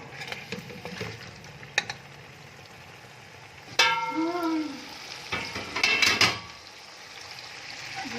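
Chicken with spices is stirred in a pot, giving faint, intermittent scraping and clinks at first, then a louder metallic scrape with a brief ringing tone and a final burst of stirring and clatter.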